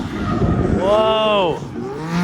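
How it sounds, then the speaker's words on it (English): An 800-whp Nissan 370Z drifts with a sustained tire squeal and rising engine whine, loud and fairly close, over a busy crowd-and-engine background with voices. "Oh, he drifted that thing."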